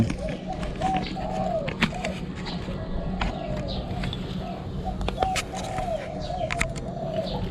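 A decoy bird coos during ground-decoy training outdoors, giving repeated soft coo phrases in a steady cycle against a constant background hum with scattered clicks.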